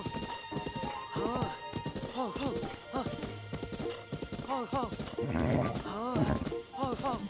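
A horse gallops across open ground in The Legend of Zelda: Breath of the Wild, its hooves a steady, rapid clip-clop running the whole way, with a voice talking over it almost throughout.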